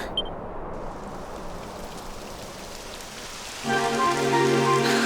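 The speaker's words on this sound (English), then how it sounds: "Typical. It would have to go and start raining, wouldn't it?" A steady rain hiss fills the scene in Dragon Quest XI, joined partway through by a louder layered tone, like synthesized music swelling over the rainfall.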